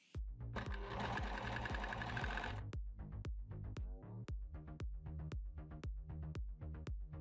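A sewing machine stitches a hook and eye, first in a dense loud burst of whirring, then slowing into a string of separate, evenly spaced mechanical clunks.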